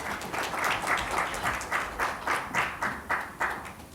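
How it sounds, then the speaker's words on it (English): An audience at a climate action business conference applauds a speaker being welcomed, a dense, steady burst of clapping from a sizable crowd in a hall, slightly pulsing. "A round of applause, please"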